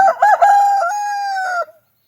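A rooster crows near a chicken coop, one loud, close cock-a-doodle-doo with a stuttering start that stretches into a long held note before cutting off into silence.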